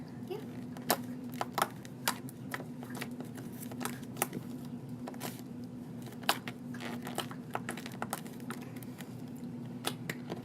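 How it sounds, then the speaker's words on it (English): Midnight Fog slime squished and worked by hand makes a rapid, irregular run of sharp clicks and pops over a low, steady background hum. "this is my Midnight Fog slime. And it has a pretty good clicky sound"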